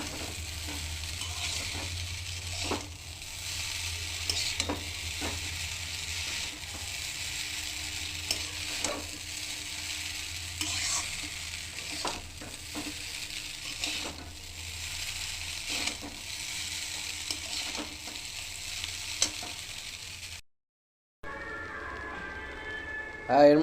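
Chow mein noodles are stir-fried with egg and tomato in a pan, a steady sizzle under regular scraping strokes of the spatula, close-up, before a brief dropout and a change of sound at the very end.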